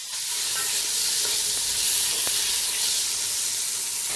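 Meat searing in a pan for beer goulash, a loud, continuous close sizzle and hiss that holds steady throughout, with a faint scrape or two and no talking.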